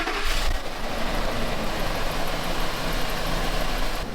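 A 4x4 one-ton pickup truck engine, just fitted with a new fuel pump and filter, cranks and catches, then runs with a loud, steady rumble close by.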